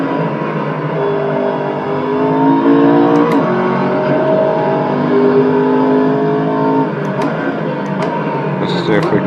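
A racing car engine in the Assetto Corsa driving game, droning loud and steady with slowly shifting revs as the car is driven, plus a few faint clicks near the end.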